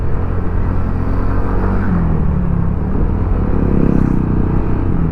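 A motorcycle with an E-TEC type Silent Killer version 1 exhaust idles with a steady, low exhaust rumble, close by and unbroken for the whole stretch.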